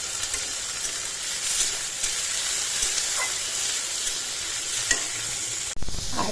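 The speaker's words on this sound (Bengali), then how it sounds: "এবার আমি এর মধ্যে একটা ছোট সাইজের টমেটো কুচি অ্যাড" Small chopped tomato pieces frying in oil with lightly browned garlic and onion in a pan for Bengali matar dal, a continuous close sizzle and hiss with faint stirring, and a brief clatter near the end.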